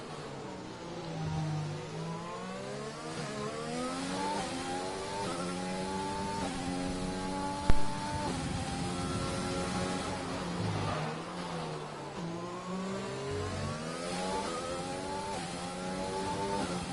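A Racing Point Formula 1 car engine in a racing video game at the Singapore Grand Prix screams steadily, shifting up and down through rising and falling revs. It stays loud and continuous, with a brief sharp knock midway and no talking.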